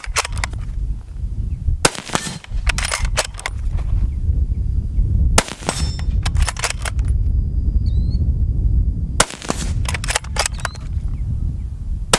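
A sniper rifle fired from a tripod outdoors, three sharp loud reports spaced several seconds apart, each followed by a brief ringing echo, over steady wind and background noise.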